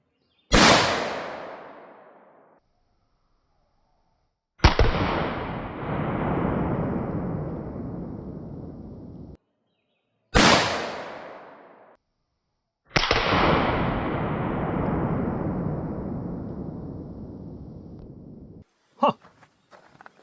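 Gunshots fired at 3D-printed body armor: four sharp, loud reports at a slow, uneven pace, each trailing into a long fading echo, separated by stretches of near silence.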